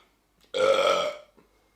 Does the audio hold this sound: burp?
yes